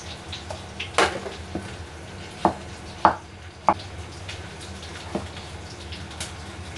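A knife cuts food into small pieces on a board, a handful of sharp, separate chops spaced irregularly over a quiet kitchen background, with no talking.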